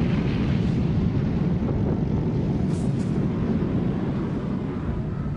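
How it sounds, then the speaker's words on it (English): World War II aircraft engines drone in a massed air attack on American ships, a steady loud roar with explosive rumble, heavy low rumble throughout and no speech. "350 planes pound the American ships."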